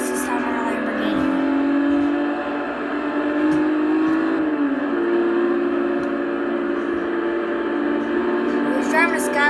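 Lamborghini engine racing in Forza Horizon 2: a sustained, loud tonal engine whine that climbs gradually in pitch, dips once, then settles into a steady high drone.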